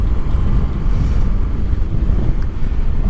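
Strong outdoor wind buffets the microphone with loud, steady low rumble that never lets up, roaring and gusting throughout with no voices.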